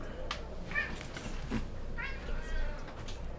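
A cat meows a few times over a constant low background hum, with the calls coming as short, moderately loud cries spread through the stretch.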